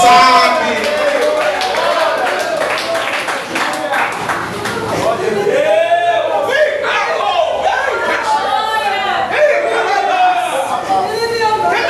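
Worship service congregation praising aloud, with overlapping excited voices, shouts and some clapping mixed in, loud and close, a crowded chatter of many people at once.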